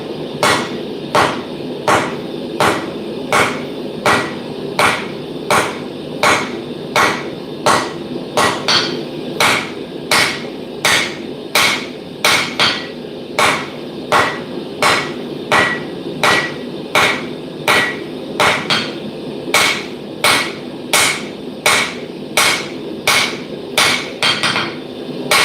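Steady hammer blows ring out on an anvil as wrought iron is forged narrower and thicker, each strike sharp and close, falling in a regular rhythm that runs the whole time with brief gaps between bursts.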